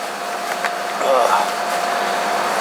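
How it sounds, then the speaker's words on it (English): An air conditioner blows a steady, broad whoosh of air in a workshop, with a faint constant hum underneath and a few small clicks and rustles nearby. "hope you can hear me over the AC blowing"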